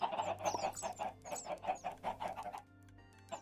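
Baby chickens in the video game Minecraft cluck in a quick, choppy run of short calls that stops near the end, leaving a faint tonal hum with no talking.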